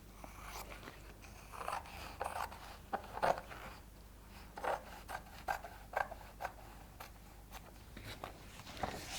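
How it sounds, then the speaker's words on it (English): Scissors snip along the short edge of lampshade fabric in a series of short, close crisp cuts with brief pauses between them, quiet and with no talking. "I'm just going to cut the short edge."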